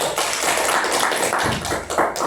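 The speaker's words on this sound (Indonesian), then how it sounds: "tepuk tangan dulu untuk Amel" Steady applause from a group at a guidance session in a Muhammadiyah orphanage in Cingkariang, many hands clapping in a dense, continuous patter that swells slightly near the end.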